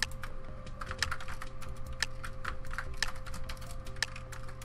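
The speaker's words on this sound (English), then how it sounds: "Oh, we're going to have to do some fast typing." Rapid typing on a computer keyboard during an arcade game session, with quick, uneven clusters of light key clicks and a few sharper taps over a steady hum, with no voices.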